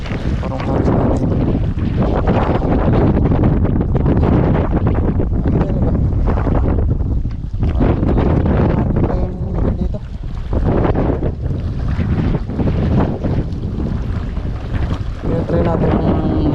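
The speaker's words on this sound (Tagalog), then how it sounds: "Lakas ng hangin." Strong wind at sea roars loudly and continuously around a small fishing boat during lure fishing, the gusts pounding the microphone with rushing water beneath.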